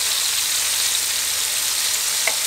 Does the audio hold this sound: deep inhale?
no